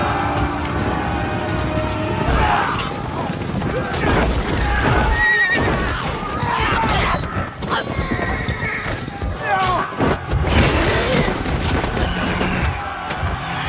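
Horses neigh and whinny amid a chaotic battle, with hooves clopping and rain-like noise filling a dense, loud mix, and a narrating voice running under it.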